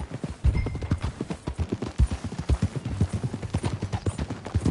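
Horse hooves gallop in a fast, steady clip-clop rhythm in Red Dead Redemption 2, close and loud, with a brief whinny-like tone early on.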